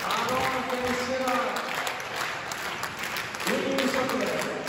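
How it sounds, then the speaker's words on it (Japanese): Audience hand clapping at an awards ceremony after a competition final, a dense continuous wash of many hands heard under a voice speaking through a loudspeaker. "最後の受賞者から皆様、手拍子をよろしくお願いいたします。"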